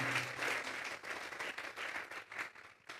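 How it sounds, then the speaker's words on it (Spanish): A church congregation claps together in a warm, lively burst of applause, rhythmic swells of many hands filling the room, with a faint low hum beneath at first. "Vamos a darle una ofrenda de palmas a Dios en esta hora."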